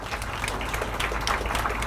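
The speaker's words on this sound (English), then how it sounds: "We need to give some round of applause for Lorraine." Brief burst of audience applause for Lorraine at a morning conference session, a diffuse spread of clapping heard from a distance over a low hum.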